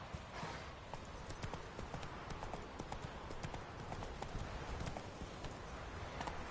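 Hooves of a horse named Roach clip-clop steadily in a video game, a continuous trotting rhythm over a busy background of game sound, with a faint voice now and then.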